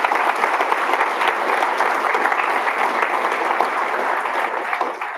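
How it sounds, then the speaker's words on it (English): An audience at a university DECA event applauds a guest speaker, the CEO and co-founder of eTapestry, with loud, dense, continuous clapping that holds steady throughout. "Can we get a round of applause real quick for Mr. Love?"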